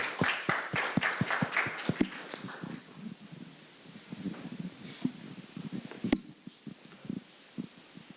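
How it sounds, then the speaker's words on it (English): Scattered, light audience clapping at an IP award ceremony, strongest at the start and thinning into sparse claps and murmurs. "A big round of applause to the Emirates IP Services"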